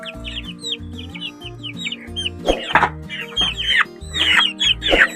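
Hungry young sinibalang chicks peep and cheep in rapid, repeated high calls close by, with a lower steady hum and some louder flurries of chirping layered over it.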